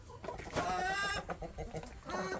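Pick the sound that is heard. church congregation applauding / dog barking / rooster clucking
rooster clucking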